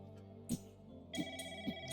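A telephone rings inside the Doom WAD game Beyond Sunset, sounding as a few bright repeated bell bursts over a low ambient game drone, with no talk.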